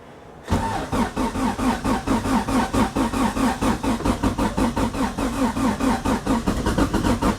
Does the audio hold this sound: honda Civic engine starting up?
yes